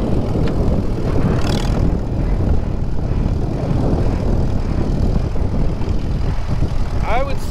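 A 1939 Farmall H tractor engine runs steadily close by, a loud continuous low rumble with no breaks, and a brief higher chirp right at the end.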